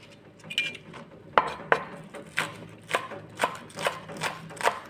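A knife slices green onions finely on a board, giving a series of crisp, close taps that settle into a steady rhythm of roughly eight cuts, with no voices.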